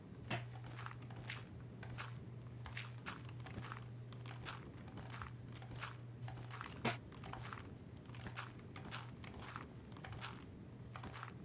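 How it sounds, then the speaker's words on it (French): Rapid, steady typing on a computer keyboard with interspersed mouse clicks, close and fairly quiet, running continuously over a low steady hum with no talking. "Il paraît que t'entends mes clics"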